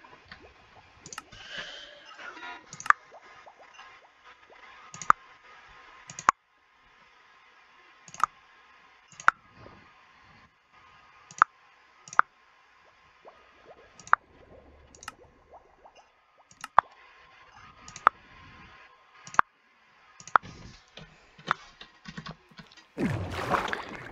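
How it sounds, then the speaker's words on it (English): Sharp clicks made by a person ring out about a dozen times at irregular intervals over some twenty seconds. They sound close and fairly loud against a quiet background, and a short rustling burst closes the stretch. "That was me making the clicking sounds if you couldn't tell."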